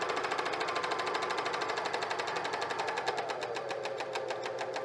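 A cover stitch machine sews fold over elastic, its needle running in a fast, steady mechanical chatter that stays close and loud throughout, with no voices.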